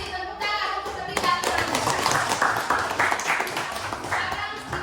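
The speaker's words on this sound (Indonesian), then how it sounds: "Tepuk tangan untuk ketiga." A classroom group, including children, gives a short round of applause: continuous, fairly close clapping and tapping with voices underneath throughout.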